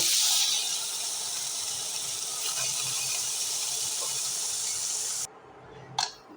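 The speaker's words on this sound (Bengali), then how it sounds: "তেলটা গরম হওয়া পর্যন্ত মাংসগুলো এবার একটু আমি ভেজে নেব" Meat frying in a little hot oil in a heated kadai for a vegetable curry, giving a loud, steady broadband sizzle and hiss that runs for about five seconds, then cuts off to near quiet with a brief burst near the end.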